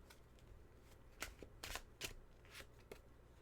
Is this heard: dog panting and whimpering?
no